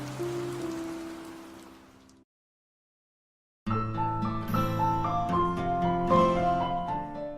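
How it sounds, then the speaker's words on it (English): Steady rain falls on a surface under soft tonal music, then cuts to silence for over a second before music returns. "We're not sitting out here in the rain."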